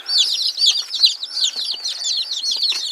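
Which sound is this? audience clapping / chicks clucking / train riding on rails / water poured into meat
chicks clucking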